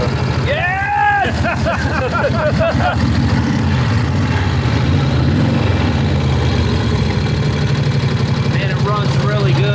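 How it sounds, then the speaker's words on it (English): A Harley-Davidson motorcycle engine, unused for over 50 years, idles loudly with a steady, lumpy low rumble, revving briefly near the start before settling into a continuous throb. "Runs really good. There's not a lot of engine noise."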